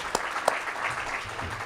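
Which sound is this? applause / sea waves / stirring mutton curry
applause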